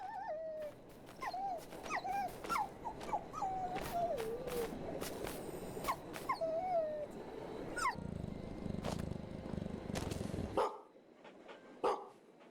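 Dog in the Maid of Sker horror video game barking and whimpering, a run of short yips and whines with rising pitch over a dark ambient bed, then a few fainter calls after a rumbling stretch.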